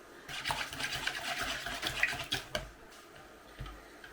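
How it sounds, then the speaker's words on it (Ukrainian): Rapid rhythmic clinking and scraping of a utensil whisking eggs and milk in a bowl, close up, with a few sharper taps near the end. "І все це зараз перемішаємо."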